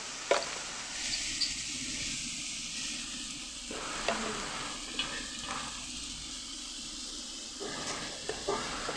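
Biryani spices sizzling in hot oil with steady broadband frying hiss, occasional sharp stirring scrapes and clicks throughout, no speech.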